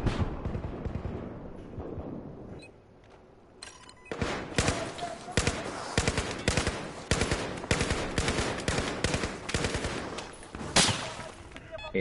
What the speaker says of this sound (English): That's the one I was shooting.